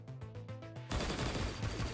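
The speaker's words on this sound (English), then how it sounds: "the gunshots scare me" A rapid burst of automatic gunfire in the game Punishing: Gray Raven erupts after a short rhythmic electronic passage, loud and dense, with no talking.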